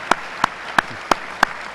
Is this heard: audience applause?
yes